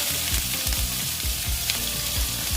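Onions sizzle and fry in hot oil for a Bengali boal fish curry, a steady loud crackle broken by repeated low thumps of stirring.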